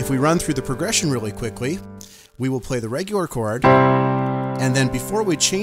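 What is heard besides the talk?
None of the usual background noises is heard.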